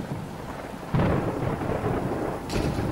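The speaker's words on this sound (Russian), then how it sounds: "Сейчас идет дождь." In a SpongeBob horror game, steady rain pours down while a loud rumble of thunder breaks in about a second in and rolls on, swelling again near the end.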